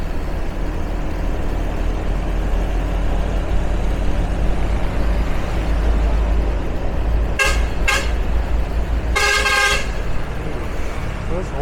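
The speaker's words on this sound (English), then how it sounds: "Those horns are so loud." Car and motorbike horns in busy Binh Duong, Vietnam traffic: a couple of short toots then a longer blaring honk cut through a constant loud roar of engines and wind while riding, with talking underneath.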